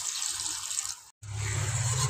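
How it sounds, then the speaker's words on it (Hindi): Water pours steadily into a pot of browned, cooking chicken. The rushing stream sounds close and fairly soft, with a brief break midway before it resumes. "इसमें हम पानी डाल देंगे"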